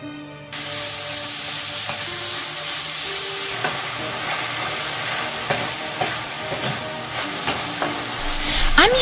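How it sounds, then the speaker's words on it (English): Spicy plant-based sausage sizzling in a hot pan, a steady loud frying hiss with occasional spatters and stirring scrapes, close up and without talk. "Separately, I'm cooking a plant-based sausage."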